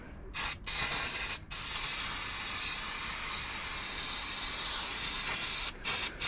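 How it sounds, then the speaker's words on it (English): A steady, loud aerosol spray hisses for several seconds, broken by a couple of brief pauses, during servicing of a 2007 Nissan Elgrand. "I'll give that another wee spray up there."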